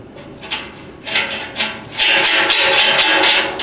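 A hammer taps on the metal side of a Thunderbolt siren a few times, sharp and close, then the sound turns into a continuous ringing clatter.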